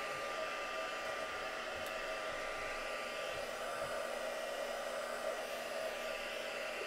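A hair dryer runs continuously over a mixed media craft project, a steady, fairly quiet airy whir with no pauses and no talking.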